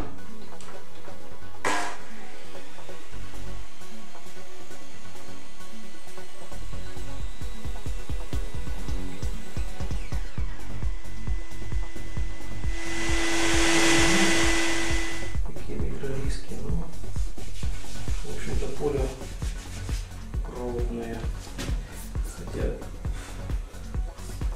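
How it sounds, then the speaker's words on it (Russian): A Makita LS1040 miter saw spins up and cuts through an 80 by 80 mm pine beam, a loud whining motor with a rising harsh cutting burst midway, followed by winding down, with someone talking around it. "пилиться будет брусок 80 на 80. Сосна. Так, запускаю"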